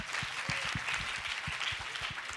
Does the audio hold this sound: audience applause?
yes